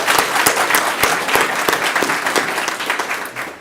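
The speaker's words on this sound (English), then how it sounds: "Also a round of applause for Claire." A lecture audience claps for a few seconds, a close, bright patter of many hands with a few sharper individual claps, fading slightly as it ends.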